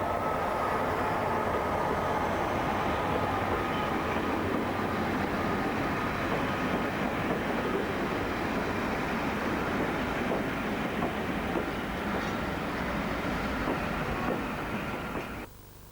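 A train, an Old Oak to Willesden stock move, passes on the Greenford Loop with a continuous rolling rumble and faint wheel clatter, steady and fairly close throughout before fading at the end.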